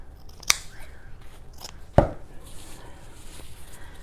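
Scissors trimming the ends of a strip for a walking water science activity: two sharp, distinct snips about a second and a half apart against a quiet room background.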